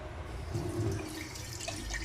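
Tap water is poured into a burnt, blackened kettle-style teapot to rinse it after cleaning, giving a steady splashing, dripping wash at moderate level for about two seconds with no talking.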